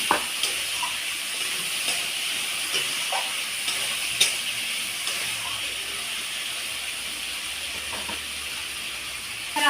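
Fried potatoes sizzle in hot oil in a pan while a fish and potato curry is cooked at home, a steady close hiss with faint crackles and no talk.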